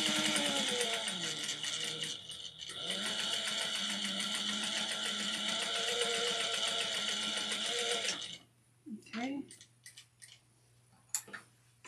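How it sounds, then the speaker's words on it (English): A sewing machine top stitches a wristlet pocket, running in a steady loud mechanical whir for about eight seconds before stopping. Scattered ticks and clicks follow, all close by. "we're going to do another top stitching right here at 1/8 of an inch."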